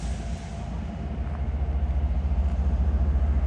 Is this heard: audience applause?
no